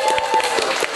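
People at a meeting with migrant workers clap briefly, with a few quick hand claps standing out over a murmuring room.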